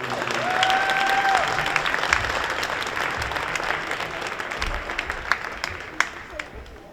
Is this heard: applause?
yes